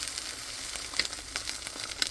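An egg frying in a pan for breakfast gives a steady close sizzle and crackle, with a couple of sharper pops rising out of the hiss.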